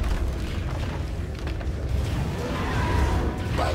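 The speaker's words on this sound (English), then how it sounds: "Radiant's top tower has fallen" A tower collapses in the game Dota 2 with a heavy rumbling boom and crumbling debris, loud and sustained, with a brighter crack near the end.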